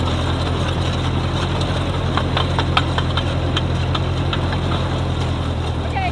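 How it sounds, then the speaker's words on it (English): A tractor engine idles steadily and loudly throughout, a constant low rumble with occasional faint clanks on top. "I've got the tractor here."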